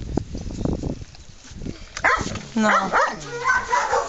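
A dog in a pen gives short, excited yips and whimpering barks in a quick burst near the end, following soft rustling and a person's brief quiet word.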